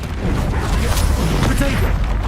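Explosive spell blasts from Hogwarts Legacy combat boom in a dense, loud low rumble, one impact rolling into the next without a break, with faint voices beneath.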